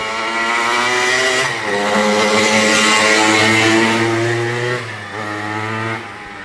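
A 1974 Yamaha YZ125A two-stroke motocross bike with original strap tank is revved hard and close, its engine climbing and holding high pitch with a few quick dips in revs and no voices.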